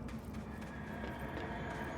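Rapid, continuous hoofbeats clatter at a steady gallop in the video game Control, close and dense, with no talking.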